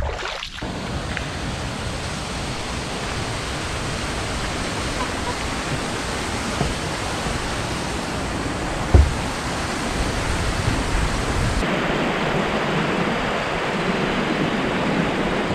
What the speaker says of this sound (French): Et ici, on a la chute d'eau.